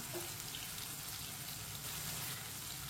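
Spices (salt, dried red chilli, turmeric and ground coriander) fry on low heat in a pan for lauki (bottle gourd) sabzi, giving a steady, faint, continuous sizzle with no talking.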